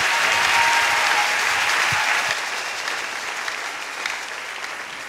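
A church congregation applauds in a sustained, dense wave of clapping that fills the room, then gradually thins and softens toward the end.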